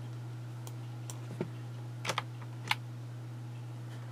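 Sparse keystrokes on a computer keyboard, a few isolated clicks and a quick pair of taps heard faintly over a steady low electrical hum, with no talking.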